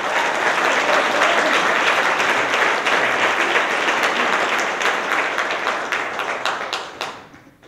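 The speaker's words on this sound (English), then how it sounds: "A round of applause for Joan Miller" Sustained applause from an audience at a community service awards ceremony, dense steady clapping that holds loud for about seven seconds before tapering off at the end.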